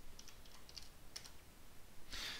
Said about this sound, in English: And finally I'm going to type cd, no path, and press return.